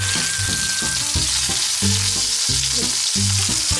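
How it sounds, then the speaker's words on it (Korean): Marinated pork ribs sear in a pan, a loud, continuous close-up sizzle that runs unbroken, with soft music playing underneath. "구우면서 꺼뭇꺼뭇 팬에 묻은 양념들을 고기에 묻혀주면서 구워준다고 해요"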